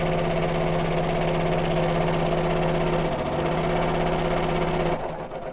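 A domestic sewing machine stitches a fabric bag with bamboo handles in a steady, continuous whirring run lasting about five seconds, then stops abruptly near the end, leaving a brief quieter tail.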